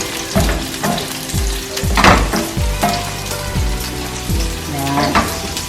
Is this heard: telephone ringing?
no